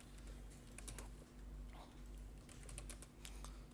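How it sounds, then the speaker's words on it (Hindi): Typing on a computer keyboard while entering text into an MS Word document: a run of faint, irregular key clicks over a steady low electrical hum and hiss. "टाइपिंग वगैरह कर लेते हैं पहले।"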